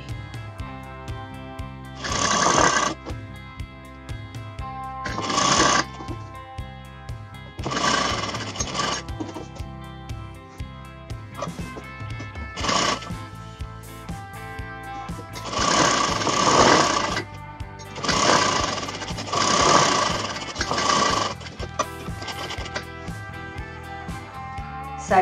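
A sewing machine stitches an off-shoulder raglan sleeve top in several bursts, each a fast, buzzing run of rapid needle strokes a few seconds long, separated by quieter pauses with faint handling noise.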